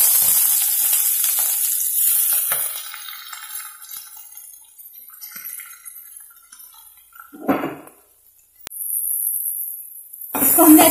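Maggi noodles with masala being mixed in a hot pan: a bright, steady sizzle that fades to a quieter hiss, broken by a couple of clattering stirs near the end.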